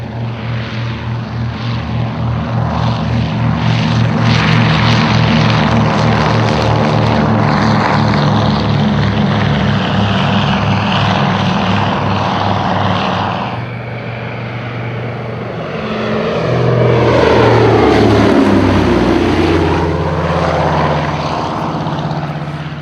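Loud, droning engines of a Consolidated PBY-5A Catalina flying boat roar steadily, then dip and swell again as the plane passes close by; no voices.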